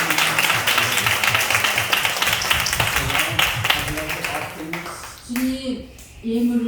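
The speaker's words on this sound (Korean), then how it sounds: "하나님께 큰 박수 올려드리겠습니다" Church congregation clapping during a Sunday worship service, rhythmic unison claps that fade after a few seconds as a singing or speaking voice with organ-like tones rises over the dwindling applause.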